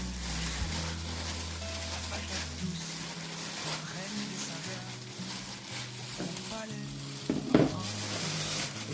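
A mixture for cabbage paupiettes is stirred in a hot pan, giving a steady sizzle with soft scraping. A low tonal hum and a voice-like drone sit beneath it, with a sharper clatter near the end.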